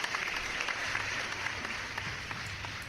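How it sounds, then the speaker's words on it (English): Studio applause played as a sound effect, a steady wash of clapping and crowd noise lasting a few seconds at moderate volume. "that applause was in his contract"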